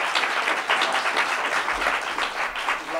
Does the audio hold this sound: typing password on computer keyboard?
no